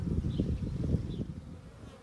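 Honeybees buzz steadily close by around a hive, a low droning hum with small swells as they fly around, no voices.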